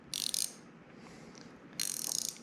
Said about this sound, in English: I got these cool ratchets here